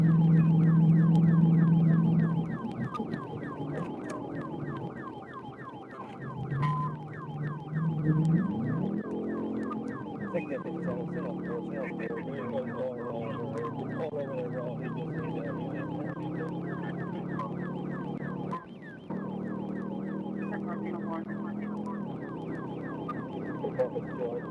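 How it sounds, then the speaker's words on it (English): Police sirens wail continuously with rapid oscillating tones, loud and close, layered over each other throughout, with a brief dip near the end. "Lights flashed, sirens wailed"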